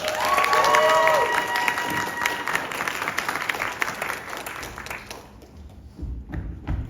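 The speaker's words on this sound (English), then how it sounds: "A round of applause for our very own witchy godmother and Zanny." A theatre audience at a Cinderella performance breaks into loud applause and cheering, with whoops and whistles early on, then the clapping thins and fades out near the end, leaving a few scattered thumps.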